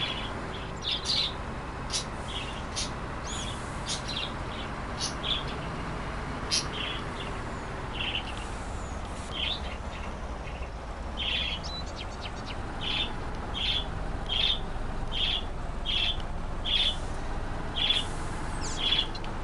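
A bird calls repeatedly outdoors on a corn and soybean farm, a series of short, bright, evenly spaced chirps that grow more regular in the second half, over a steady background of wind and field noise.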